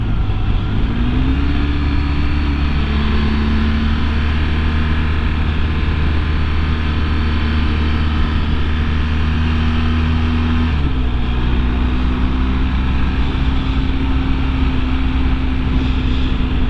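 A Diamondback 226A motorcycle engine carrying a rider and passenger along a twisty road, a steady loud drone with the pitch easing up and down through gear changes and throttle shifts.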